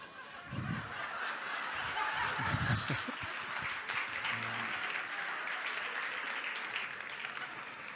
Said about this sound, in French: On peut applaudir John.